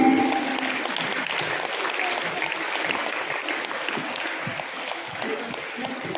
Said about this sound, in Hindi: एक बार जाबिर सर के लिए जोरदार तालियां हो जाएं।